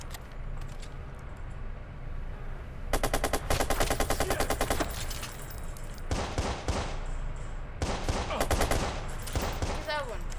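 Machine-gun fire in the video game Watch Dogs rattles in several rapid bursts, loud and close, over a constant background of game ambience.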